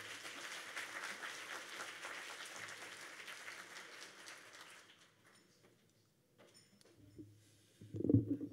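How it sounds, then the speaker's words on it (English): Faint audience applause at a South Florida Muslim coalition gathering, soft, distant clapping for about five seconds that dies away into near silence, then a short burst of close voice sound near the end. "Big round of applause for Shabir."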